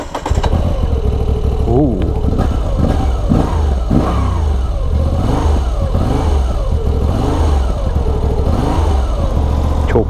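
Close up, a Moto Guzzi V85 TT motorcycle engine cranks and catches, then revs up and down repeatedly in rising and falling sweeps over a rumbling idle, while a man makes a brief exclamation.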